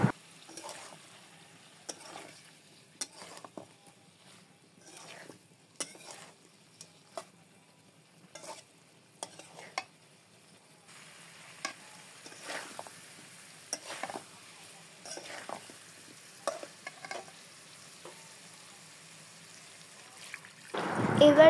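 A jackfruit and prawn curry with yogurt is stirred in a pan, giving scattered scraping strokes and soft sizzles at low level, growing busier toward the end with a louder burst of stirring.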